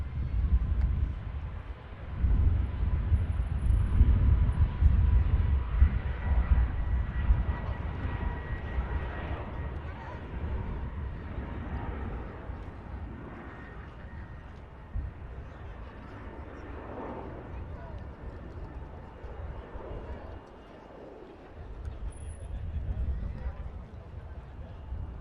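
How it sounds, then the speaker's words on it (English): A passenger jet climbing away after takeoff from Manchester Airport toward Reykjavik, a broad low engine roar that swells early and slowly fades into the distance, with a voice talking over it. "Positive climb for the aircraft heading back to Reykjavik."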